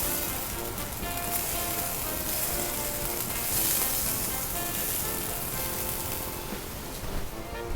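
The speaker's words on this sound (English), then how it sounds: "in a large pan, we're going to take and brown off our bratwurst" Bratwurst sausages brown in a large pan, giving off a loud, dense, continuous sizzle and crackle that fills the whole stretch without pause.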